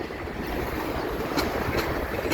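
A freight train hauling scrap metal gondola cars rolls past on the Dundas Subdivision in London, Ontario, giving a loud, steady rumble broken by a few faint metallic clanks.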